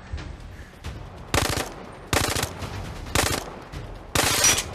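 Several bursts of rapid automatic gunfire crack out in the VR shooter game Zero Caliber: Reloaded, four distinct loud volleys at roughly one-second intervals with quieter single shots between them.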